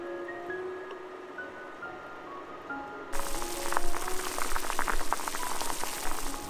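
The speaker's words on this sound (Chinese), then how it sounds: "把糖渍草莓倒入锅中， 以中小火煮到微滚。" Sugared strawberries simmer in a pot over medium-low heat for homemade French strawberry jam. A quiet start gives way midway to a sudden, steady, dense bubbling hiss that continues to the end.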